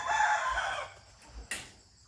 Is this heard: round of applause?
no